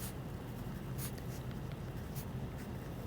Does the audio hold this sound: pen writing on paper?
yes